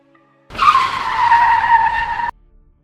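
A limited edition car skidding to a stop as it arrives, a loud sustained tire squeal lasting about two seconds, starting and stopping abruptly, close by with no talk.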